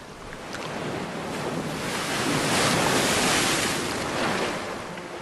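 Sea surf washing on a seashore, a continuous broad roar that swells and eases over several seconds, steady and fairly loud, with wind noise blended in.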